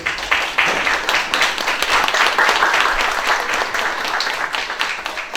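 An audience at an academic conference applauds continuously, with loud, dense clapping sustained throughout.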